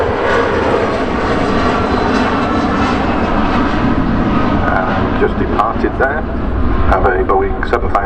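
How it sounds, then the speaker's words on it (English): An easyJet airliner in Holidays livery departing Manchester Airport for Tenerife, its jet engines a loud, continuous broadband roar held throughout, with people chatting nearby. "Easyjet 2, this time in their Holidays colour scheme, on its way to Tenerife."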